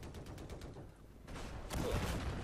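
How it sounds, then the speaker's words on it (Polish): Gunfire in the Battlefield 4 video game, a quick rapid run of shots followed by louder, denser bursts, fairly faint overall with no talking. "po ostrzelaniu dwóch gości uda nam się zabić tylko jednego z nich pomimo wielu hitmarkerów"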